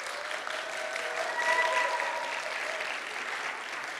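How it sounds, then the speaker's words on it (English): An audience at a kindergarten graduation breaks into a steady round of applause, dense clapping that swells slightly in the middle and carries on for several seconds at moderate distance, with no voices on top. "a big round of applause"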